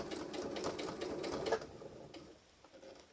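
Sewing machine needle stitching steadily through thick layers of reclaimed sofa fabric for oven gloves, a rapid close mechanical patter that slows and fades toward the end.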